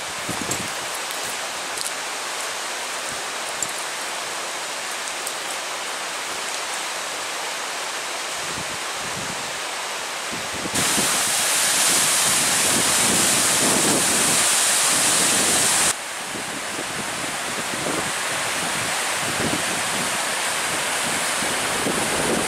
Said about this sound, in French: on a le ruisseau en dessous, la cascade qui est là au-dessus